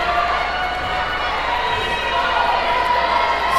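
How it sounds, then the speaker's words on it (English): A steady, loud crowd roar fills a gym as the visiting fans' section cheers at a girls' basketball game, with a commentator talking over the noise. "now the visiting cheering section is getting a bit louder"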